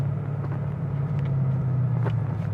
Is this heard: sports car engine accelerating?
yes